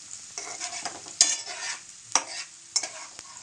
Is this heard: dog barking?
no